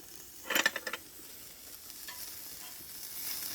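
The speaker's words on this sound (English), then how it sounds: "That's just the olive oil cooking." Steak cooking in olive oil on a grill, a quiet steady sizzle with a short burst of louder scraping clatter early on, then the hiss continuing softly alone.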